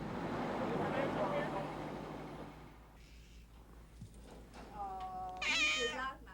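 A cat meows several times, a clear, fairly close cry near the end, following a stretch of noisy background rumble with a person talking.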